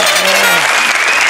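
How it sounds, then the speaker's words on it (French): A television studio audience applauds loudly on a French talk show, a dense, continuous clapping that fills the whole moment with a faint tone beneath it. "On applaudit Thierry Ardisson qui sera bientôt avec nous"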